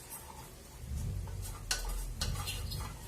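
Rice stir-frying in hot oil in a pan, with a soft sizzle and scraping stirs of a utensil against the pot, close and fairly quiet, a few clinks standing out.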